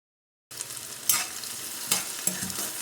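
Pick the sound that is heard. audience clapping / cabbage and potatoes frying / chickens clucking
cabbage and potatoes frying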